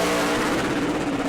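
A super late model race car roars around the New Smyrna track during qualifying, a loud, continuous engine drone filling the whole moment.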